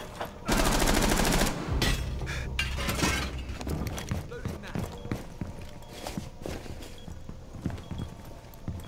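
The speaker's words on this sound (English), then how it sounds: "were they shooting in that other window?" Gunfire bursts and glass shattering at a window during a Rainbow Six Siege match on the Kafe Dostoyevsky map, a loud dense volley early on followed by scattered shots and impacts under game noise and voices.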